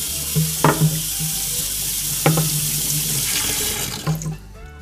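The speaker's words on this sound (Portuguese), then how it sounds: "vou só dar uma passadinha de água aqui" Tap water runs steadily into a kitchen sink while something is rinsed during barbecue prep for foil-wrapped beef ribs, with a few clunks and splashes of handling partway through and the stream cutting off near the end.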